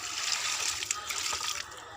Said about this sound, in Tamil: தண்ணியை ஊற்றி விட்டுற வேண்டியது.